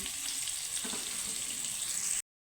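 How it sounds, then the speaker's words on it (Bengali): Pumpkin pieces frying in a pan, a steady close hiss of hot oil with a couple of faint stirring touches, then an abrupt cutoff into silence. "আমার কুমড়োগুলো সুন্দর লাল লাল করে আমি ভেজে নিয়েছি"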